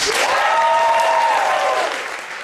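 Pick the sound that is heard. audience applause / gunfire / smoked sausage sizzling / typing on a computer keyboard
audience applause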